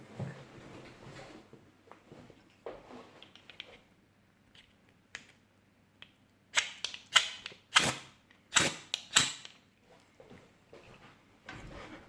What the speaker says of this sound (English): I do scrape a fire steel with this instead of any bushcraft knife